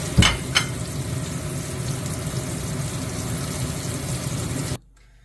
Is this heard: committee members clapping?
no